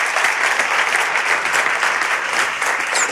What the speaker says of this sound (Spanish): Un aplauso de bienvenida.